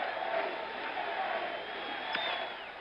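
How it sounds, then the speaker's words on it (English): A baseball stadium crowd at the 1977 World Series chants for Reggie Jackson, a faint, distant wash of massed voices sustained steadily across the moment without clear breaks. "Crowd is chanting"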